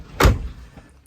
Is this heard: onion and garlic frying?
no